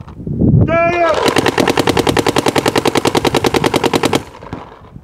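Paintball markers at an NXL tournament field in Las Vegas unleash a rapid, evenly spaced stream of shots lasting about three seconds, loud and close, after a shouted voice at the start.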